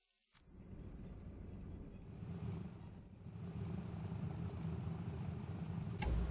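Steady droning plane engine during a War Thunder test flight, a continuous propeller-like hum that swells slightly and holds at moderate level, no talking.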